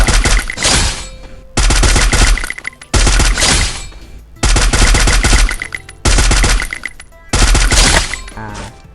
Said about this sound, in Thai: ยิงให้ดูก่อนโดยใช้ปืนใน เออาก่อนนะครับ ปืนระยะไกลก่อนนะอ่ะเดี๋ยวผมจะยิงดู